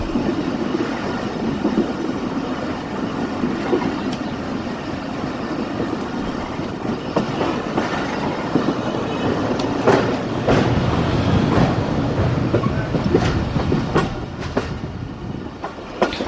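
The Jaffar Express train in Pakistan rolls along the rails near Jhelum station with a loud, steady rumble and rhythmic clacking, joined by sharp wheel squeals and metallic clicks toward the end.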